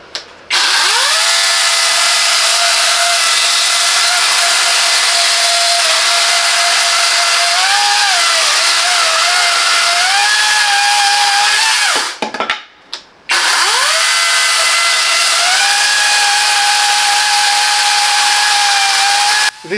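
A Parkside Performance 40V cordless pruning saw (PPAKS 40-Li A1) running outdoors: a loud, steady high-pitched motor whine with wavering pitch, cut off briefly around midway and then starting up again, with no talk.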